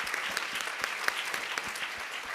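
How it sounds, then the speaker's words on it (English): An audience applauds speakers at an education summit health panel, a moderate, steady patter of many hands clapping with scattered sharper claps, continuous for the whole stretch. "Let's give a round of applause for our 4 speakers today."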